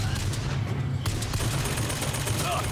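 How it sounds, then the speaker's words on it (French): Rapid machine gun fire in the shooter BioShock Infinite, a dense continuous fusillade of bursts close and loud throughout, with someone speaking over the shooting. "Oh putain, une mitrailleuse."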